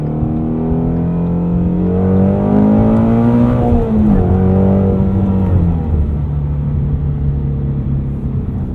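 A Ford Mustang Shelby GT350 accelerates hard to pass from an in-car perspective, its engine note climbing steadily in pitch with loud, continuous rumble before easing back and settling to a lower drone.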